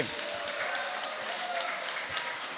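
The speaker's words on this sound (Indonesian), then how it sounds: "Ya, tepuk tangan untuk Bung Misri sekali lagi." An audience applauds a speaker at a public gathering of local residents in Pontang, a steady wash of clapping at moderate level with no voice over it.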